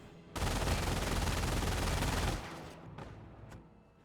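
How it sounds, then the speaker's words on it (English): Sustained machine gun fire from an MG bunker in Company of Heroes 1, pinning down a rifle squad: a dense, loud two-second burst of rapid shots, then fading to a quieter background with a few isolated reports. "Got the rifle squad being suppressed by the MG bunker."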